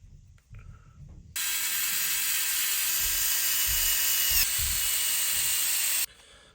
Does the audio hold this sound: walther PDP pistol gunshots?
no